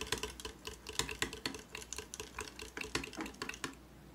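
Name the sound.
small whisk from handheld mixer mixing ingredients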